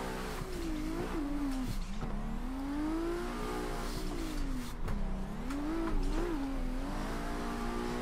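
A car drifting in a racing video game, its engine droning and revving in long wavering sweeps with tires squealing, steady and loud throughout with no voices.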